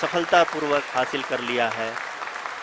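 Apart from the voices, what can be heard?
applause in mission control during Chandrayaan-3 landing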